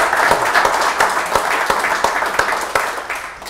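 An audience applauds at a Startup Grind Philadelphia talk: dense, steady clapping from many hands, close and loud, fading slightly toward the end.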